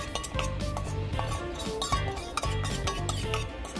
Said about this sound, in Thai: คนคลุกเคล้าให้เข้ากันนะคะ